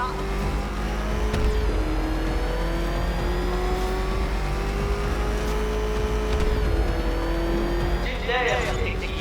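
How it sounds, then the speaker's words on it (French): An old car engine roars and revs steadily in Batman Arkham Knight, a loud sustained drone with rising pitch sweeps and brief shifts, continuous throughout. "Est-ce que ce vieux moteur peut supporter ça?"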